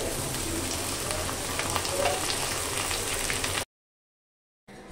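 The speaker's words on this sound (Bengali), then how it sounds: "এখন যে ঢেঁড়সগুলো আমি ভেজে রেখেছিলাম এগুলো দিয়ে দিব।" Fried okra goes into a hot pan and sizzles steadily, a constant close frying hiss that cuts off abruptly before briefly resuming.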